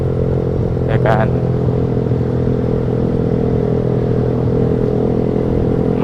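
A motorcycle fitted with a loud aftermarket racing exhaust rides along a road in Indonesia, its engine droning steadily and loudly at close range, with a brief clatter early on and no speech standing out.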